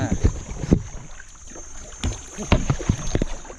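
A kayak glides through clear water at Klong Root in Krabi, with paddle strokes splashing irregularly up close over a steady wind-buffeted background hiss.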